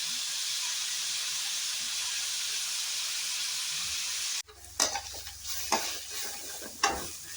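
Beef varuval with curry leaves frying in a pan, a loud steady hissing sizzle that cuts out abruptly and gives way to quieter stirring and scraping with intermittent spatters.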